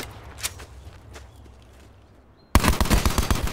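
Rapid gunfire in a first-person shooter game, a quiet stretch of faint thuds and footsteps giving way to a loud, sustained burst of repeated shots near the end.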